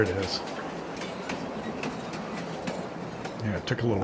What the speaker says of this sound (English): Get over here and call the train.